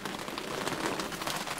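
Rain falling on a small rural car left uncovered, a dense steady patter of drops on its surface, close and continuous.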